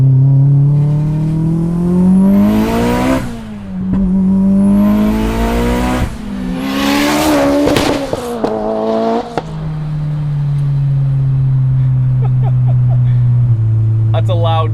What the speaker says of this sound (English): That's a loud car.